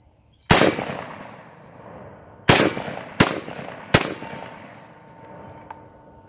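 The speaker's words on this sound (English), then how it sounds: "Let's go ahead and shoot the silhouette again." A Panzer Arms BP-12 12-gauge shotgun fires at a silhouette target: four loud, sharp blasts, one alone and then three in quick succession, each followed by a brief echoing decay.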